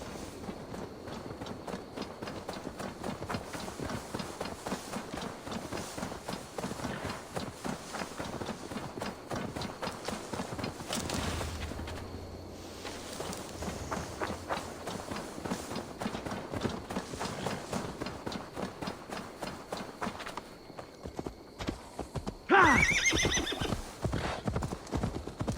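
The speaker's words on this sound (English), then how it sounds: "Now to deliver Magni his horse." Hooves clop in a steady, rapid rhythm as a horse moves in Assassin's Creed Valhalla, with whinnies breaking in and a louder burst near the end.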